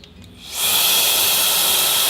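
A handheld air blower cleans a vinyl record, giving a loud, steady rushing hiss that starts after a brief quiet moment and holds without a break.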